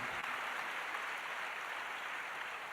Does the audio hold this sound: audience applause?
yes